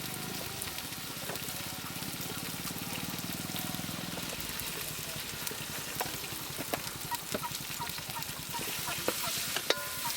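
Chicken curry with turmeric, onion, ginger paste and chilies is stirred in a pan over heat: steady frying sizzle under a scraping, rhythmic stirring that continues throughout, close and fairly loud.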